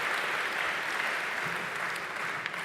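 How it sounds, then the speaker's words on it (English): Brief burst of audience applause at a university convocation ceremony, dense even clapping from a large crowd sustained throughout at moderate volume. "A little round of applause."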